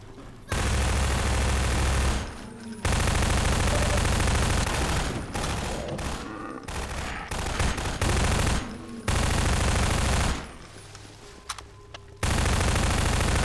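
SMG fire in the video game Half-Life 2 comes as long, loud sustained bursts of rapid automatic shots, broken by short gaps of near silence.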